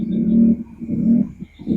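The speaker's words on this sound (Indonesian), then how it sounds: "Itu hanya sejenis burung." A bird gives a low, cooing call of the pigeon or dove kind, repeated in a few soft, throaty phrases close by with brief pauses between them.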